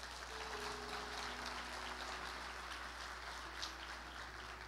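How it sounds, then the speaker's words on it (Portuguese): A church congregation applauds in a sustained, even wash of clapping that continues steadily throughout, with a faint low hum underneath. "Dê um aplauso ao Senhor."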